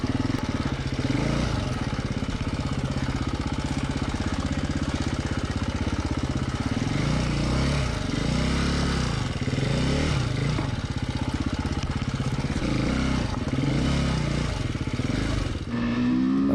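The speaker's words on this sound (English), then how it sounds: "you will be glad you're riding that KTM 250 at a slower pace" KTM 250 EXC-F four-stroke enduro motorcycle ridden slowly on a Colorado hard enduro trail: a close, continuous engine drone with fluctuating throttle and revs throughout, no talking.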